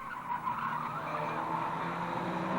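Race cars cornering together in a three-car convoy at a motor club race day, a continuous blend of engine drone and tire squeal, moderately distant.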